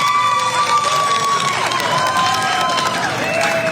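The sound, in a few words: parade crowd clapping hands and cheering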